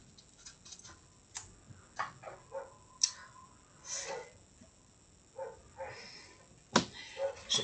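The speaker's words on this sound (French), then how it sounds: "je peux pas la laisser aboyer comme ça" Female dog barking outdoors in short, separate yaps spread irregularly across the span, fairly close, with quiet gaps and no talk between the barks.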